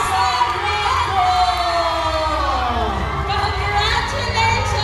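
A crowd cheers and shouts loudly and continuously at a pageant crowning, with whoops and excited voices mixing with a loudspeaker voice and music in the background.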